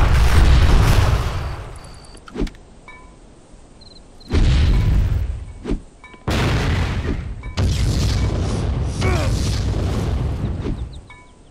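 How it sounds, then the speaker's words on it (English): Grenades explode in Vivisector: Beast Within, several loud booms in succession, each a sharp blast that rolls out into rumbling debris, with separate bursts spaced a few seconds apart. "Just like in Half-Life, we toss grenades"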